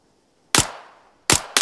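Three sharp gunshots ring out in the Arma 3 military shooter, one alone and then a quick pair about a second later, each loud and close with a short decaying tail, no talk over them.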